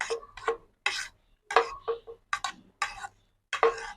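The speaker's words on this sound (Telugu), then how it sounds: "నెక్స్ట్ ఆనియన్స్, టమోటా అన్నీ కలిపేసేయండి" Boiled peanuts, chopped onion and tomato being stirred together in a bowl for masala peanut chaat, a series of close, crisp rhythmic clicks and scrapes of a spoon, about eight distinct strokes with short pauses between.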